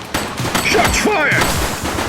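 Rapid bursts of gunfire rattle through a police shootout in the game The Precinct, dense overlapping shots mixed with shouted voices and radio-like chatter throughout.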